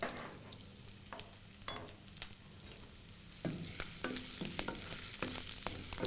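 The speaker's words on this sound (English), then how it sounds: "I am adding a couple of sliced green chilies into the oil." Sliced green chilies and chopped ginger sizzle in hot oil, a soft steady frying hiss punctuated by sharp spatula scrapes and taps that grow busier partway through.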